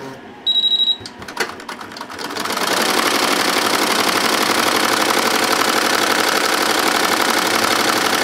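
An embroidery machine stitches a green design onto a cooler bag with a fast, even, close mechanical chatter. A few clicks and beeps come first, then the stitching runs steadily to the end.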